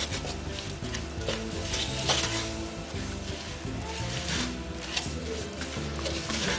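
A roux of flour and tomato paste being stirred in a pan for a langoustine sauce, a steady scraping and light sizzle that carries on without a break, with faint background music.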